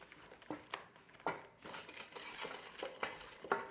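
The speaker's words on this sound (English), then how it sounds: "you're going to have to stir this continuously because you don't want it sticking" A spoon scrapes and knocks around a pot of curry over low heat, with irregular clinks and scraping strokes, fairly close and quiet, no talk.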